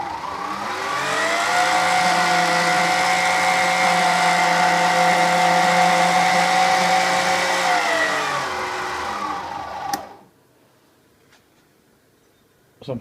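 A Kenwood Chef A701 stand mixer fitted with a juice extractor runs steadily at speed 8 with a smooth, even whine, spinning down at about ten seconds and then going quiet.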